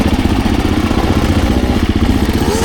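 A Beta 250 Race enduro motorcycle engine runs at a rough, lumpy idle close by, loud and uneven with a pulsing clatter, as if labouring near a stall.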